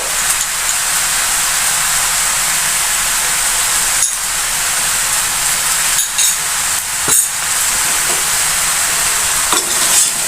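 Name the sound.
stirring spices into olive pickle in a pan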